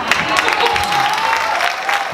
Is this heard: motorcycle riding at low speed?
no